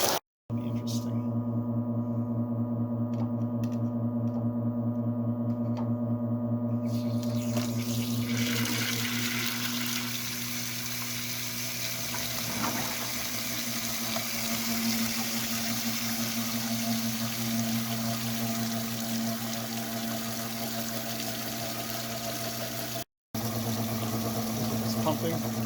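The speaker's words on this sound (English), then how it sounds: "hook a hose to this submersible pump" A submersible pump pushes water through a hose during a hot water heater drain, giving a steady motor hum with a constant rushing flow that runs nearly throughout, briefly cut off twice.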